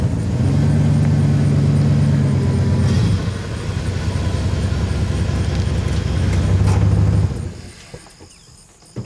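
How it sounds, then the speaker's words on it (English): A car engine runs steadily and loud as the vehicle pulls in front of another car for a jump start, droning for about seven seconds before dropping off sharply near the end. "find a vehicle that runs and pull in front of the car that needs to be jump started"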